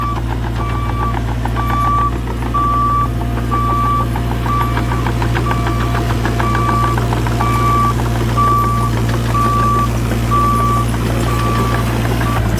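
Cat 303.5 CR mini excavator clearing land, its steady low diesel drone running throughout with a regular, evenly spaced series of high reversing beeps repeating across the whole stretch.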